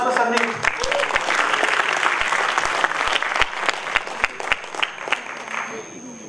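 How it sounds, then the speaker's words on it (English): Loud audience applause fills a meeting hall as a Toastmasters speaker is welcomed to the front, dense continuous clapping with a few sharper individual claps standing out, easing slightly toward the end. "can we have a loud round of applause for Sandeep?"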